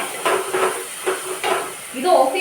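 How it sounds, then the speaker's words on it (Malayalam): Fish curry bubbling in a clay pot, soft rhythmic hissing bursts of boiling repeating every half second or so, close and fairly quiet. "ഇത് ഓഫ് ചെയ്താലും ചട്ടിയിൽ ഇങ്ങനെ തിളച്ചിട്ടൊന്ന് വറ്റും"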